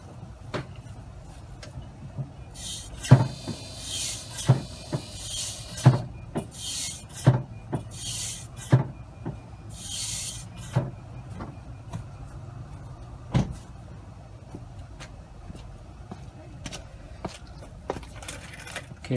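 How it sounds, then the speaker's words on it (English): Brake pedal on a car being pressed over and over after a leaking brake caliper's seals were replaced, giving a series of soft, evenly spaced clunks and clicks, close by, against a low background hum with no talking. "I'm gonna go ahead and press the brake another 5-6 times."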